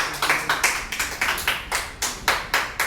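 Children clap along in a classroom identification game of fruits and vegetables, about ten sharp, evenly spaced claps in a steady rhythm, close and fairly loud, with no talking over them.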